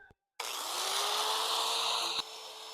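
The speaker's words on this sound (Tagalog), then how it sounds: "Yun, start na natin, gamit tayo ng grinder." An electric grinder cuts into motorcycle seat foam, a steady loud whine starting abruptly after a brief quiet moment and running continuously with a slight dip near the end.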